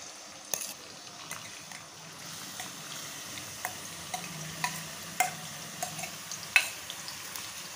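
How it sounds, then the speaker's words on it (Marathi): Chopped tomatoes roast in a pan for a Kolhapuri misal, with a low, steady sizzle under scattered clicks and scrapes of a spoon stirring at fairly close range. "हे टोमॅटो मी बारीक करून घेतले. ह्यात आपण भाजून घेऊया."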